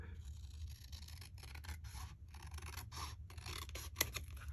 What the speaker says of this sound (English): So what I'm going to do is I'm going to cut it down and re-ink it.